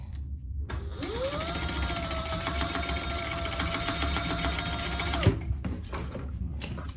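Sewing machine stitching a crossbody phone bag, running in one steady motorized whir for about four seconds, with mechanical clicks and handling noise before and after; no talk.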